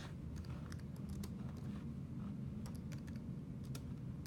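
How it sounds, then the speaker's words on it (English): Quiet typing on a computer keyboard, a brief run of light irregular key clicks over a steady low hum, close and faint, with no talking. "I'm just going to type in Bluebell"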